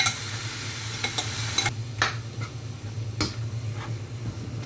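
Chopped onion cooking in a dry pan with no oil, giving a steady soft sizzle broken by several sharp scraping stirs of a utensil against the pan, heard close and alone.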